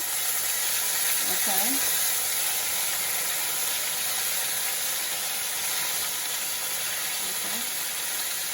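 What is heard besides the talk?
cauliflower wings frying in hot oil on the stove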